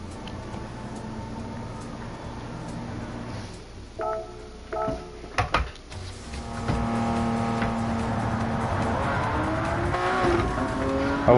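A McLaren race car runs in Gran Turismo 7, engine tone rising and falling through gear changes, with a few short bursts in a quieter stretch before a sustained higher-revving drone.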